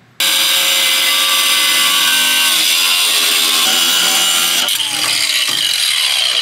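A power cutting tool slices through a long, rusty bolt on an R32 Skyline, producing a loud, steady, high-pitched grinding screech that starts abruptly and runs unbroken close up, with a brief change in tone near the end.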